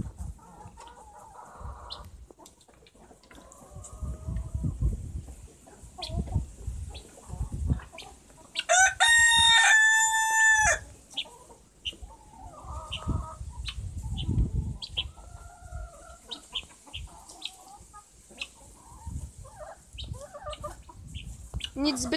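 Backyard chickens eating crushed grain cluck and murmur close by, with a loud rooster crow bursting out midway and softer scattered clucks and pecking sounds before and after.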